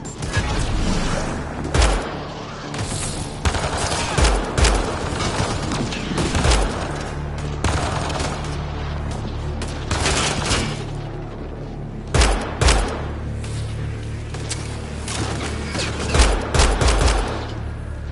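Enemy gunfire in the video game Mass Effect Andromeda: repeated bursts of loud rifle shots and heavy booming impacts, steady firefight texture throughout with sharp cracks spaced every few seconds.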